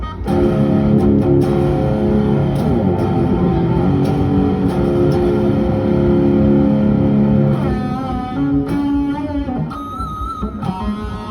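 A loud, heavily processed electric guitar solo through a BOSS GT-100 effects processor fed straight into a mixer, with thick distortion, fast runs and sustained bends over a dense, continuous wall of sound.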